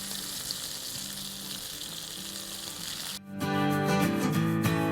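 Tilapia fish sizzles steadily in a non-stick pan, loud and close. After about three seconds, music comes in over the continuing fry.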